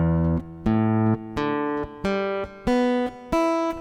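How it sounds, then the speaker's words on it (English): An Epiphone Dove Pro acoustic guitar fitted with a Graph Tech Ghost piezo pickup plays six clear single notes in an ascending sequence, each ringing with a bright attack, heard direct and close with no talk. "here is, again, the sound right from the piezo pickup"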